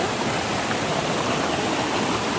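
The Dalasari waterfall in a forest near Mandasa, Srikakulam, roars as a dense, steady rush of falling water, close and constant with no voices.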